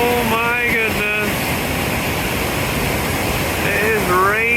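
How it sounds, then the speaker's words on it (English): A raging waterfall at Hopewell Rocks on the Bay of Fundy gives off a constant close roar, while people talk excitedly over the rushing water. "And a short while later we get to the waterfall."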